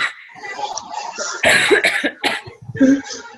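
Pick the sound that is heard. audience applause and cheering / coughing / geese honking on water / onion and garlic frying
coughing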